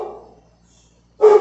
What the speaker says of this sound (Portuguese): toda vez que eu lavo, meu cachorro late.